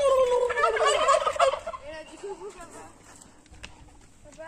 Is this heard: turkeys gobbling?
yes